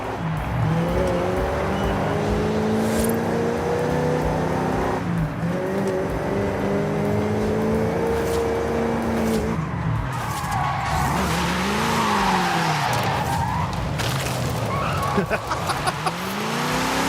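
Race car engines roar continuously on a dirt track with rising and falling revs and tire skids, loud and steady throughout, with a voice talking faintly underneath.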